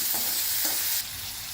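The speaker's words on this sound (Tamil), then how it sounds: "கொஞ்சம் பூண்டு, கொஞ்சம் வெங்காயம் எல்லாத்தையும் போட்டு நல்லா ஃப்ரை பண்ணிடலாம்" Garlic and onion fry in a pan with a steady bright sizzle, stirred with a couple of scraping strokes, close and fairly quiet.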